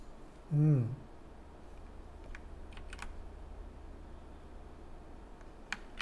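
A few sparse, faint keyboard clicks from Ctrl+R and Enter shortcuts typed during Blender modeling, spread over a quiet room hum after a brief low voiced sound near the start.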